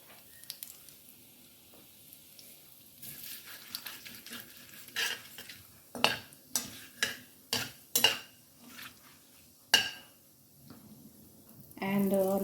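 Tempering spices dropped into hot oil in a pan for a spicy pointed gourd and moong dish, a few soft sizzles followed by a run of sharp spoon-on-pan scrapes and clacks, close by.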